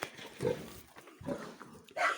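A sow grunts on a farm, low snuffling grunts coming in several short bursts with breathy noise between them, fairly quiet and close, with no talk over it.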